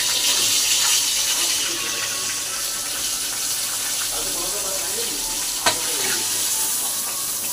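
Pieces of katla fish fry in oil in a pan, producing a dense, continuous hiss and crackle heard close up, with a single sharp clink partway through and no speech.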